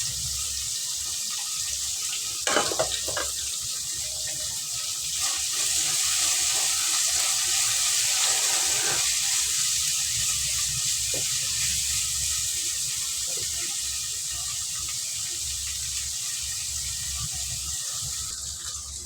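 Onions and green chilli sauté in hot oil for a salna, a steady bright sizzle running throughout with a couple of brief utensil clicks near the start.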